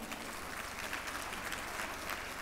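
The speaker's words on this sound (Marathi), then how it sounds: "आपण जोरदार टाळ्या वाजवल्या पाहिजेत." Dense, steady applause from an audience at a school carnival event, continuous broadband clapping at moderate level without pauses.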